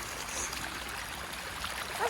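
A water stream rushes steadily along a path after heavy rain, a broad continuous hiss and gurgle close by, with faint splashes and a brief high voice near the end.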